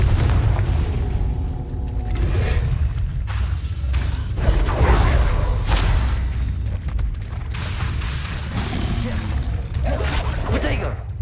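Bursts and booms from spells cast in the Hogwarts Legacy video game, including the Confringo fire blast, rise over a busy game soundscape, with a voice calling out spell names throughout.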